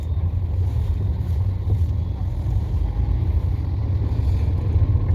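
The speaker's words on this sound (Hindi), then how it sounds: "वो होगा कार के वाइब्रेशन का, जो कि वो रोड पे चल रही है" Steady low rumble and vibration of a car driving on a road, heard from inside the cabin, with continuous road and wind noise and no distinct events.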